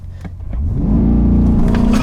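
A mid-engine Corvette supercar launches hard from a standstill, its engine rising quickly from a low rumble into a loud, sustained accelerating roar heard from inside the car.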